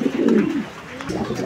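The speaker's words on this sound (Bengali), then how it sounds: "এই মুহূর্তে আপনারা যে কবুতরের জোড়াটি দেখতে পাচ্ছেন এটা হচ্ছে রোমান গাল কবুতরের একটা জোড়া" A pair of black Roman gal pigeons coos close up, giving two low, throaty coos separated by a short pause.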